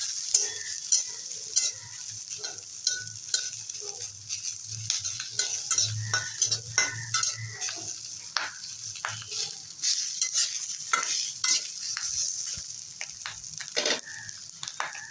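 Pipul greens stir-fried with green chilies in a pan, giving a steady sizzle with repeated scraping stirs and light utensil clinks throughout, close and alone.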